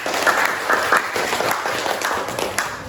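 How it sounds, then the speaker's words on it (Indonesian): A classroom audience bursts into applause during a lesson on the long jump, the clapping dense and steady for the whole stretch, with a few sharper claps rising out of the wash. "Kasih aplaus."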